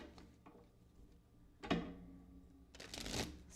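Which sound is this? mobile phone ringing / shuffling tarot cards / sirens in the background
shuffling tarot cards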